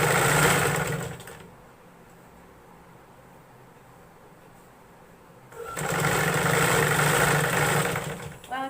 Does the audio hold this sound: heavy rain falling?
no